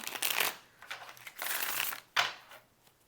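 Cards are shuffled in three quick riffling bursts, crisp and close, with short pauses between them.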